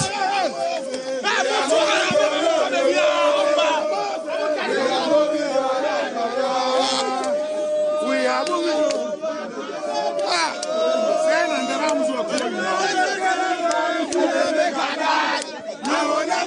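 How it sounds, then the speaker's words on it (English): A street crowd of youth jeers and cheers in Ghana, a dense, loud mass of shouting and whooping voices that rises and churns continuously, close by, with overlapping yells and chatter throughout. "And so there they are, engaging in jeering and cheering."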